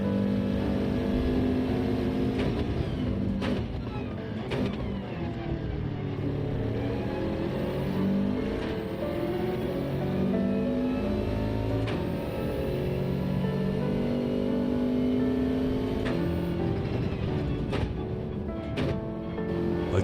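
Racing car engine on a track with cold tyres, revving hard and climbing through the gears into fifth, a steady loud drone with shifting pitch and brief dips at each upshift.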